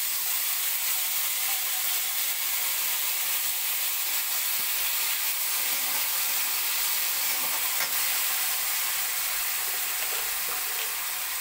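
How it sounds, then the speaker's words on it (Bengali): Panch phoron and dry red chillies fry in hot oil for a tomato chutney, giving a steady, loud sizzle with a few faint clicks and no voices. "ফোড়নটা একটু ভাজা ভাজা হলে টমেটো দেব।"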